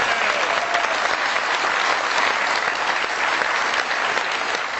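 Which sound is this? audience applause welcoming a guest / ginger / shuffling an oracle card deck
audience applause welcoming a guest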